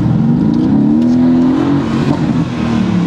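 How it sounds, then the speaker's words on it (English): A Jaguar F-Type's engine revs loudly and close up, a deep, throaty roar that rises and falls steadily for about three seconds with no talking over it. "The F-Type sounded sick."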